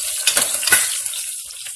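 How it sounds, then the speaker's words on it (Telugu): Chopped onions fry in a hot pan with a steady close sizzle, broken by a couple of brief scraping stirs. "ఆనియన్స్ కొద్దిగా ఫ్రై కావాలి"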